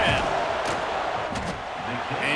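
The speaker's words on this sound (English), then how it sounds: "This crowd trying to do its part to get inside the kicker's head." Football stadium crowd roaring during a Nebraska field goal attempt in a video game, a steady loud wash of crowd noise with a commentator's voice over it.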